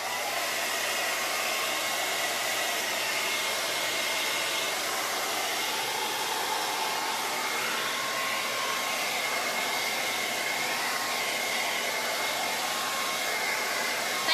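Hair dryer blowing steadily and loudly on wet paint on a horse-themed door hanger, a constant airy roar with no pauses.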